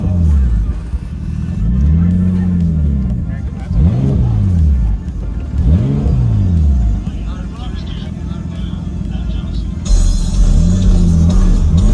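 A Nissan Skyline's engine revving up and dropping back several times in rising and falling sweeps, loud and close, while people talk over it throughout.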